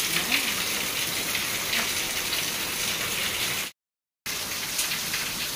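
Steady morning rain pours down with a continuous hiss and patter while someone bathes out in it, the wash of water broken by one brief dropout before it resumes.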